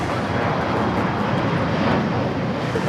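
A Philippine Airlines Boeing 777 jet taking off from LAX runway 25 right, a steady, broad roar of engine noise held at constant loudness throughout, with no voices.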